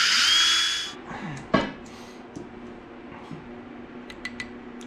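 A drill bores through a block to make a homemade fuel pump drilling jig; a loud high whine fades out in the first second, followed by a sharp knock and a low lingering hum with faint taps.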